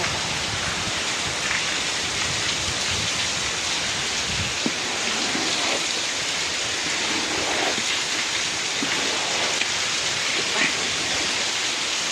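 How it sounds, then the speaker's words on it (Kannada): Heavy afternoon downpour over a farmyard with cows and sugarcane, a dense, unbroken hiss of rain that stays loud and steady from start to finish. "ಸಿಕ್ಕಾಪಟ್ಟೆ ಜೋರು ಮಳೆ."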